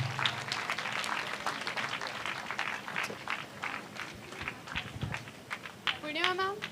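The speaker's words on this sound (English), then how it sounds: "Can we have a round of applause for all 6 teams?" Scattered, fairly quiet applause from an audience for finalist teams at a college business competition, irregular claps fading out as voices and a brief rising tone come through.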